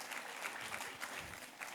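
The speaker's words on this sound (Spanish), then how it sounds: "Denle un aplauso a Dios por eso." A church congregation claps during a Spanish-language Holy Week sermon, a brief and fairly quiet burst of scattered hand claps heard from some distance.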